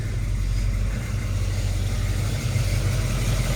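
A 1970 Chevrolet Chevelle SS's 396 big-block V8 idles steadily up close on a cold start, a deep, rumbling low throb with a slightly uneven lope and no voices.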